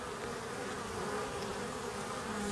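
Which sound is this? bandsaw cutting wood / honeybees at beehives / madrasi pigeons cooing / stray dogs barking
honeybees at beehives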